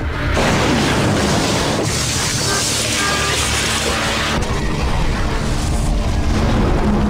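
Massive explosions rip through the stern of an aircraft carrier: a loud, continuous roar of booming blasts and rumble with no pauses, dense and close.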